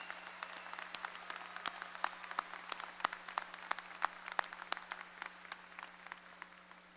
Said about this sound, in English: Please join me now in a round of applause for these impressive accomplishments.